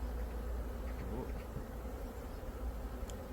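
Honeybees swarm around an open beehive while a beekeeper splits the colony into smaller frame boxes, their dense, steady buzzing filling the whole stretch with no voices.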